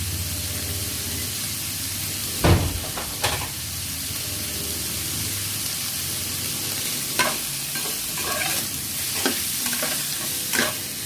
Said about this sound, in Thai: อันนี้คั่วเฉยๆนะยังไม่ใส่อะไรเลย